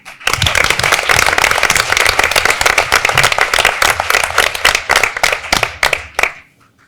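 Applause breaks out at a high school board of education meeting as a lone gymnast is honored, a dense, steady clapping from the room lasting several seconds before tapering off abruptly.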